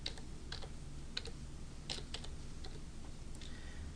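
Someone types a command on a computer keyboard, producing faint, sparse clicks with short bursts of keystrokes against a quiet background hiss.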